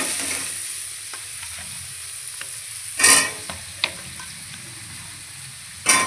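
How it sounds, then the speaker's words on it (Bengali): Potatoes and onions fry in oil in a home kitchen pan, a steady close sizzle broken by a few sharp scraping clanks of a spatula stirring, one loud burst midway and another at the end. "আলু পেঁয়াজটা একটু ভেজে নিই।"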